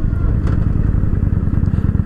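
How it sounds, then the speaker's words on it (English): Motorcycle engine downshifting on a ride with a dog on the tank, a loud close throbbing exhaust burble with rapid pulsing and engine braking, a voice speaking over it. "I'm downshifting."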